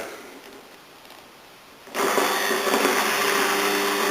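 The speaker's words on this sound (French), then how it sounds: "Et j'augmente encore la vitesse et je passe à 7." A 600-watt kitchen blender blending aioli is stepped up to speed 7, jumping from a quieter whir to a loud, steady, dense roar that holds to the end, with no voices over it.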